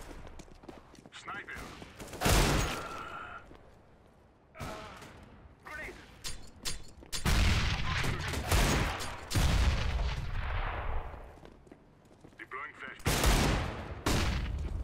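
Rapid bursts of AK rifle fire in a competitive online shooter match, loud volleys and single cracks repeating across the round with short gaps between exchanges.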